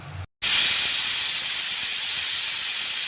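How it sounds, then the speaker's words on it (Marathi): Pressure cooker whistle blowing off steam while cooking mutton with onions, a sharp loud hiss that bursts in after a brief gap and holds as a steady high jet to the end. "शिजेपर्यंत चार ते पाच शिट्ट्या काढून घेऊ"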